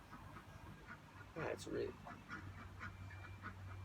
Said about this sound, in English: The ducks are coming up to say hi.